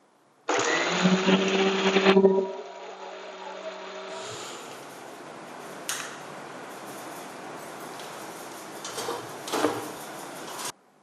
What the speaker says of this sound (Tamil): இப்ப அதை நம்ம மிக்சியில அரைச்சிடலாம்